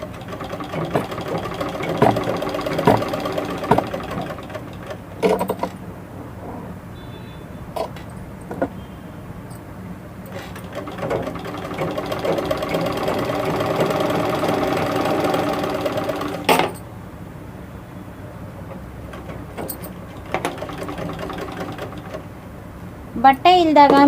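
A tailoring sewing machine runs in repeated bursts of rapid mechanical stitching, stopping and starting, while a person talks over it almost throughout.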